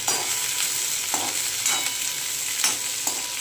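Capsicum (shimla mirchi) sautéed with a pinch of salt in a pan over a medium gas flame: a steady low sizzle broken by repeated scraping spatula strokes, close and fairly loud, with no talking.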